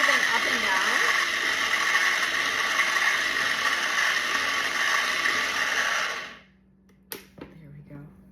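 A blender purees strawberries and orange with a loud, steady high-pitched whir for about six seconds, then cuts off into near silence with a few faint clicks.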